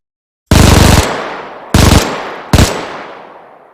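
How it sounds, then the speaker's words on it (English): MG42 machine gun in Arma 3 firing three loud, close bursts, the first longest and the last shortest, each fading into a ringing echo. "Here, you're in the MG42."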